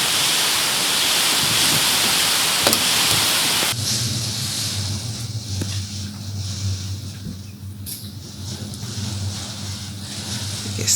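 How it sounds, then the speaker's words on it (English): Heavy wind and rain outdoors in a garden, a loud broad roar that drops to a steadier rushing hiss with low rumble partway through. "just lots of wind and rain"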